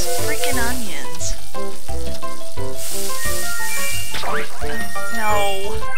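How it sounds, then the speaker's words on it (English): Cartoonish sizzling from stirring beef in wine sauce in the Cooking Mama video game, a steady fry under upbeat game music and chiming effects, with a voice talking over it. "and then we'll stir"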